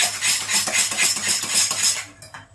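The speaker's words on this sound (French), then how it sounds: "Vous remuez bien." Three eggs with a pinch of salt whisked briskly in a bowl for muffin batter, a rapid close metallic scraping and clinking that runs for about two seconds and then stops.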